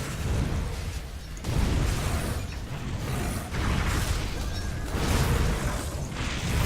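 Fiery explosions from Blackwater cocktails and thermite mines in the Grim Dawn video game, a dense run of booming bursts and whooshes that swells and recedes in loud waves across the whole stretch.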